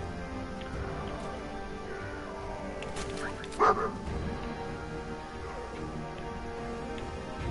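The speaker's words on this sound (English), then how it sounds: "Poor puppy." A dog whimpers in the video game Fallout 4, with soft whines over a low, steady game ambience and one sharp, louder yelp near the middle.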